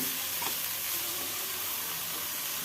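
Shredded cabbage with turmeric and salt fries in a pan, giving a close, even sizzle with faint stirring scrapes running through a short, continuous stretch.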